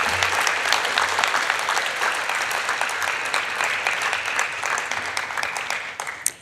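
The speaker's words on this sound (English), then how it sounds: "let's have another round of applause for all of our incredible presenters" Sustained applause from an audience at a university Grad Slam final honoring the presenters, dense steady clapping that holds for about six seconds before tapering off at the end.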